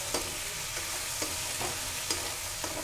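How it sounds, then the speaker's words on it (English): Onions fry in ghee in a pan with a soft, continuous sizzle, broken by a few regular scrapes of a spoon stirring every half second or so; fairly quiet and close, no voices. "While the onions are cooking"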